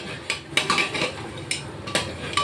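Mixed vegetables stirred in a cooking pot: a spoon clanks and scrapes against the metal in irregular bursts, close and moderately loud, with no voices.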